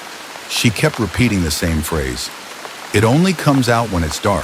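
Steady rain hisses without a break beneath a narrator's voice, which talks over it throughout.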